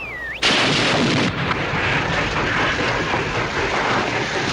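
An enemy artillery gun fires in a war drama, a sudden loud boom after a brief whistle, followed by a sustained heavy roar and rumble that fills the scene.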